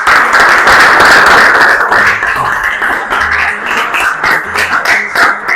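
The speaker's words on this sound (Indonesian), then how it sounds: "aplaus untuk teman kita" A classroom of students applauds a classmate with a loud, dense burst of many hands clapping that continues steadily throughout, close and unbroken.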